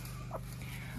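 Laying hens cluck at a dacha poultry yard, with a short rising call near the start and another soft one at the end over a steady low hum, fairly faint.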